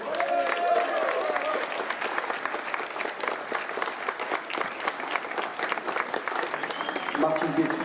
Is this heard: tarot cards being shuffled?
no